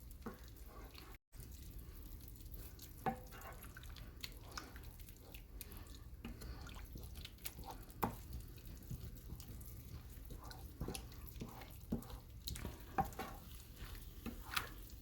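Ham croquette paste being stirred in a pan over medium heat, soft repeated scraping and gentle sizzling, fairly quiet and without talk.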